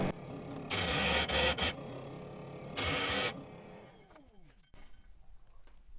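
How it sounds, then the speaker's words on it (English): A rough carnelian agate stone is ground down to remove its larger knobs, with two loud harsh grinding bursts, the first longer and the second short, separated by a quieter motor hum that then winds down. "I'm just trying to get some of the bigger knobs so I spend less time grinding it, more time polishing."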